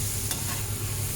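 Potatoes for devilled potatoes sizzle and hiss in a frying pan while being stirred, a dense continuous crackle with no voices.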